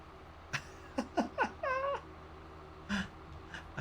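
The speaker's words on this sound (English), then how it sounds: "I just noticed I have a cat on the sofa down here" A cat meows several times indoors near a sofa, a run of short, close calls with one longer wavering yowl in the middle, over faint background hum.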